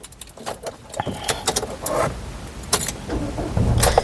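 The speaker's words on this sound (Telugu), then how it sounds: "సింగిల్ సెల్ఫ్లో కార్ స్టార్ట్ అవుతుంది ఎటువంటి స్టార్టింగ్ ట్రబుల్ అయితే లేదు" A 2015 Ford EcoSport Trendline is started from inside the cabin: keys jangle and click at close range, then the engine cranks once and catches, building into a low rumble by the end.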